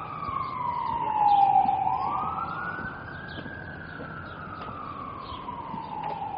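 A wailing siren rises and falls in the distance on a Toronto street, sweeping up and down in pitch over a low steady rumble of city traffic.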